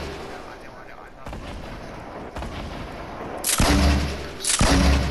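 Grenade blasts in a video game erupt as heavy booms, first a few duller thuds, then two loud close explosions toward the end, over a steady rumbling backdrop of game noise and gunfire.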